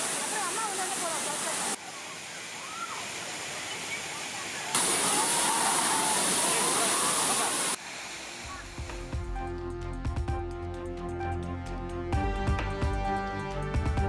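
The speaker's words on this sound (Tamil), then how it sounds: "கன்னியாகுமரி திருப்பரப்பு அருவியில் சுற்றுலா பயணிகள் குளித்து மகிழ்ந்து உற்சாகம்." Thirparappu waterfall in Kanyakumari, where tourists bathe, gives a loud, continuous roar of falling water across several cut scenes before it gives way to music.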